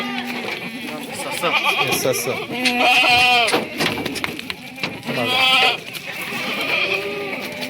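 Kathiawari goats bleat loudly and repeatedly at close range, with long wavering cries that overlap with someone talking throughout.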